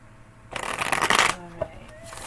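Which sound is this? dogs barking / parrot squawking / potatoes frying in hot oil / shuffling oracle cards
shuffling oracle cards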